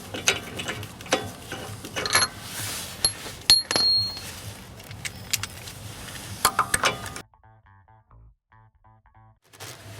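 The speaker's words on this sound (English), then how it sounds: "Remove the guide now and insert the final wheel bolt." The final wheel bolt is inserted and fitted while mounting a wheel with a Michelin CrossClimate+ all-season tyre, producing close metallic clinks and light rattles in bursts before everything falls almost silent.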